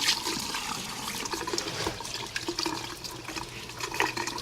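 Tap water runs steadily while corned beef is rinsed under it in a kitchen sink to wash off exterior spices, a close, continuous splashing gush that lasts throughout without talk.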